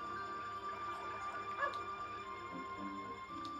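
Dog sounds from the Alundra video game, short yips and whimpers over a steady background of game music and ambience, moderately loud.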